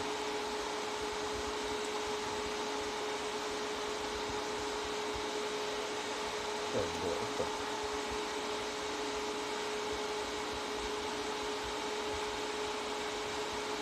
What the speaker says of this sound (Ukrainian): Запустилося, вентилятор запустився.